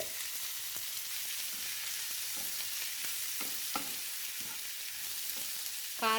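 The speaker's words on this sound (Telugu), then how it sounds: "ఇప్పుడు ఆనియన్స్ వేసుకోవాలండి." Onions sizzle in hot oil in a pan with curry leaves and green chillies, a steady crackling fry broken by the scrape of stirring, with a brief clatter at the very end.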